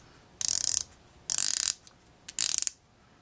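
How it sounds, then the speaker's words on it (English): A 120-click unidirectional watch bezel being turned in three short bursts, each a quick, crisp run of close ratcheting clicks separated by brief silences. "120 click unidirectional bezel"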